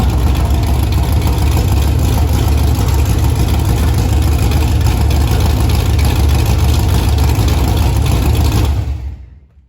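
A 1972 Chevelle Malibu engine running with open headers, a loud, steady, close rumble that holds unbroken for about nine seconds before fading out, with no talking.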